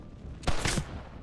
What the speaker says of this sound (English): Everyone in town shooting at me because I shot zombies